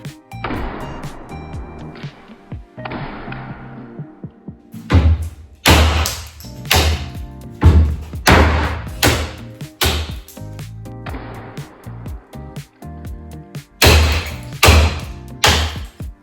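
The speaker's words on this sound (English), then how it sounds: "Let's break some up into little pieces to put in this guy." Cedar boards snapped apart by hand into small pieces, a series of loud, sharp cracks and thuds in uneven bursts with pauses between, close up and alone with no talk.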